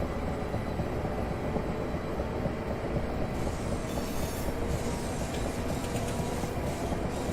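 A Class 465 electric passenger train rumbles past in Train Simulator 2018, a steady loud roar of wheels on rail with clattering and metallic hiss, heard from inside a moving Class 375 train.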